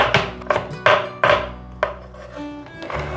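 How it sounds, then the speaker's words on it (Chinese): A knife cuts potato on a cutting board, first into slices and then into strips, with sharp, close thuds in an uneven rhythm of about half a dozen strokes and no talking. "切片， 再切丝。"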